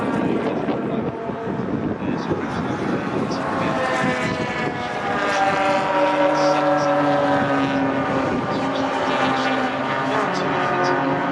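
Race cars roar down the Hangar Straight at Silverstone during a trackday trophy race, a rising engine whine passing with wind noise under steady commentary talk.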